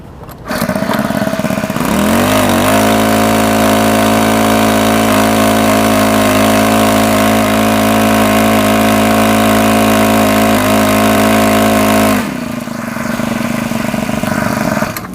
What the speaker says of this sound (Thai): เดี๋ยวเราจะมาทำการทดสอบกรณีสูบบนบกให้ลูกค้าดูนะครับผม